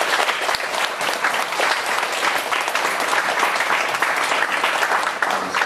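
A church congregation claps loudly and steadily to welcome a pastor to the pulpit, the dense applause holding at full strength from start to finish.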